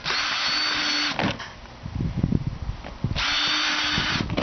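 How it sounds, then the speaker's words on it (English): A power drill whines in two short bursts with a pause between, drilling holes in a plastic tote, close and loud, with light handling noise in the gap. "I just want to show you where to drill the holes on your totes."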